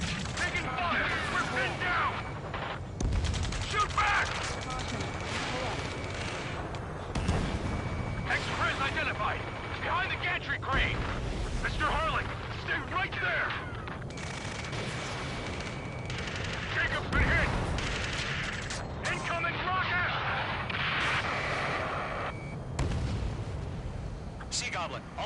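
Ace Combat 7 battle with bursts of gunfire, machine-gun rattles and heavy artillery booms in repeated clusters, overlaid by shouted radio chatter.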